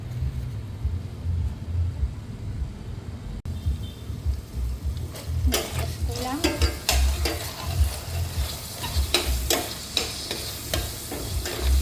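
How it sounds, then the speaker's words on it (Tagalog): Oyster sauce sautéed in a hot pan sizzles steadily while a utensil stirs and scrapes against the metal in quick, clattering strokes close by. "Gisa na rin natin si oyster sauce."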